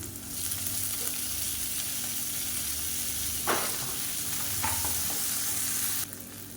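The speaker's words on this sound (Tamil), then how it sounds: "ஒரு கைப்பிடி அளவுக்கு வெங்காயம் பொடியாக கட் பண்ணதை சேர்த்துக்கலாம் அது கூடவே பொடியாக கட் பண்ண பச்சை மிளகா கருவேப்பிலை கொத்தமல்லி இது மூணையும் சேர்த்துக்கலாம்" Chopped onions, green chillies and curry leaves fry with lentils in hot oil, giving a steady, close sizzle with occasional stirring scrapes. There is no talking.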